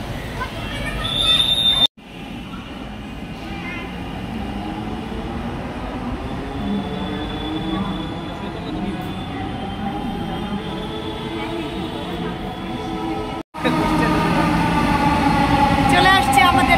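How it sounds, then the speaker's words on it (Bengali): A train rolls into a station platform with a steady, loud rumble and a ringing wheel tone. The noise holds throughout, with two brief cuts, and faint chatter from people waiting sits underneath. "চলে আসছে আমাদের ট্রেন।"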